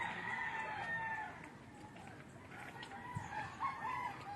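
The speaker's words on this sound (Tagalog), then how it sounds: "Mga panlaban yung mga manok dito eh." Fighting roosters in a bonsai garden crow and cluck over a steady outdoor background, with a few sharp calls standing out near and mid-distance.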